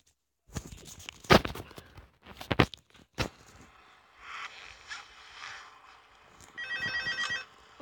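Phone rings in the Five Nights at Freddy's 2 mobile game: a repeated electronic ring near the end, after a run of sharp clatters and thumps from the game, with no talking.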